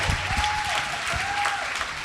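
An audience claps in a dense, continuous burst of applause that fills the room at an even level, with a faint tone wavering underneath.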